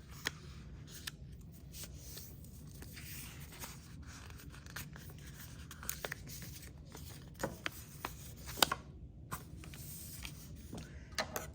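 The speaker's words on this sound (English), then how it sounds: "We're gonna fold it in half once, then a half one more time." Sheets of paper are folded in half and creased, giving quiet crinkles, rubs and scattered sharp ticks of handling close by over a soft background, with no talk.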